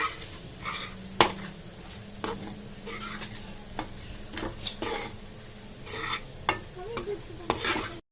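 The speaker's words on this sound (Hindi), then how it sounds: "अच्छी तरह से इसको भूनेंगे हम।" Dal roasting in ghee in a pan for halwa, a continuous soft sizzle under frequent scraping strokes of a spoon stirring, close and with no one talking.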